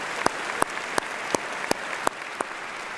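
A graduation commencement audience applauds in a steady wash of clapping, with one nearby pair of hands striking sharp, evenly spaced claps about three times a second above the crowd.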